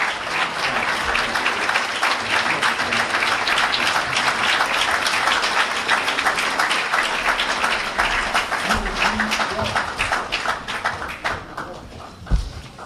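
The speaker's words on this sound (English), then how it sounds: "Let's give him a New York well-deserved round of applause." Sustained audience applause at a mosque gathering in New York, dense continuous clapping from a large crowd that holds steady for about ten seconds, then tapers off near the end.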